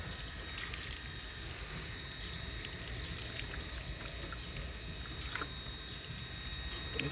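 Rainwater poured from a container onto potato plants in a garden, a steady broadband splashing and trickling that runs continuously and evenly for several seconds, close by, with no talking.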